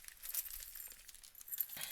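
Small craft pieces spill and rattle together, a faint, quiet flurry of light clinks and jingles that scatter and settle over a couple of seconds.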